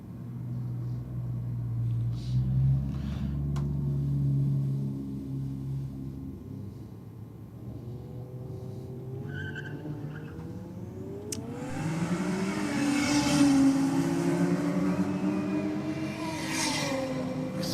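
At a drag strip, a Toyota Cressida race car launches on boost: a low idling rumble swells into a rising engine wail that climbs in pitch as it accelerates away, fairly loud and not masked by voices.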